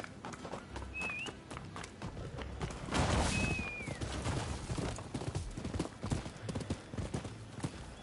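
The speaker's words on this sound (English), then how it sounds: "How is he faster than me on a horse?" Rapid clip-clop of galloping horse hooves in a video game set in Yokohama, a running rhythm throughout, with a couple of brief whinnies and faint game sounds mixed in.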